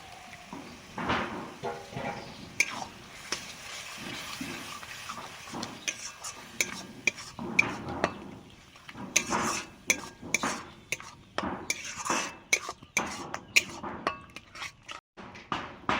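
Spinach paste being added and stirred in a pan with a spoon, giving repeated close scraping and clattering strokes that grow busier and sharper toward the end, with no voices.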